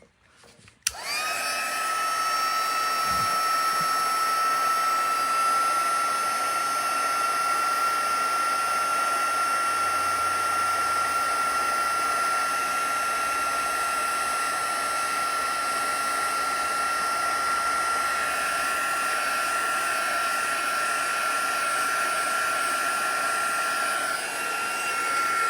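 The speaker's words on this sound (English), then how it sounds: "I'm not used to this heat tool" A craft heat tool blowing hot air to dry ink on a handmade card, a loud, steady whining hum that starts abruptly and runs continuously for the full stretch.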